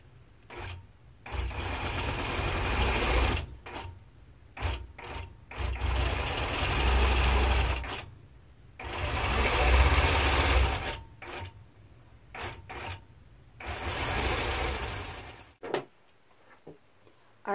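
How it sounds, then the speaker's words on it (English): Nolting Pro-Series longarm quilting machine stitching binding onto a quilt, running in several loud sustained rapid whirring bursts with brief stops between, ending in quieter clicks. "I'm just going to come in and do a couple of stitches, lower the needle, and stop for a second."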